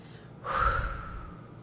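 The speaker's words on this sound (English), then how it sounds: "And take a deep breath." A single deep inhale, close and breathy, rising sharply then tapering off into a soft sustained exhale.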